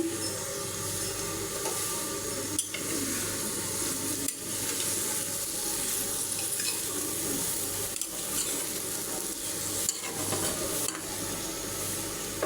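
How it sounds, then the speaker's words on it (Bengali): Dried fish and green chillies sauté in a pan, giving a continuous sizzle with scraping stir strokes and occasional sharp knocks of the utensil against the pan. "শুটকিটা আমি ভালো করে কষিয়ে নেব।"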